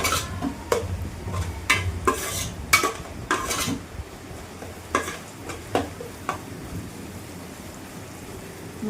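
A spoon stirs and scrapes against a pan of hot oil as half a teaspoon of turmeric is mixed in for a pepper chicken fry, with sharp scraping strokes in irregular bursts over a low steady sizzle.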